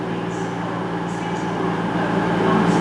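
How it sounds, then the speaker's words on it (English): The CrossCountry 1S49 service, the 11:25 from Plymouth station to Dundee, departs. A steady, close rumble of the diesel train fills the platform and swells slightly as it pulls away. "just about to go out now is 1 Sierra 49, which is 11:25, cross-country service starting here to"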